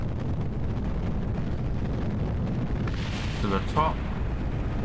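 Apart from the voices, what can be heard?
explosions below launching rocket in Kerbal Space Program video game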